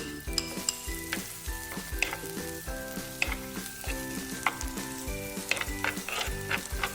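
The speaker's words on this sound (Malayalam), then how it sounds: "എണ്ണ ചൂടാവുമ്പോൾ ഇതിലേക്ക് നല്ലോണം തിന്നായി കട്ട് ചെയ്ത് വെച്ച് വെളുത്തുള്ളിയും പച്ചമുളകും കൂടെ ചേർത്ത് കൊടുക്കുക" Finely chopped garlic and green chilies fry in hot oil, a loud, continuous close sizzle broken by a spatula's sharp scrapes and taps against the pan throughout.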